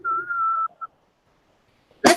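A person whistles a short, steady held note followed by a brief chirped note, imitating the four-note mockingjay call from the Hunger Games, close and clear, before a sudden loud noise at the end.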